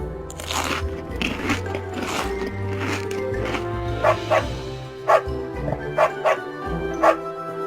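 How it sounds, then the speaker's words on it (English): A dog barks in a series of short, sharp yaps, several quick barks in a row over light background music. "A dog."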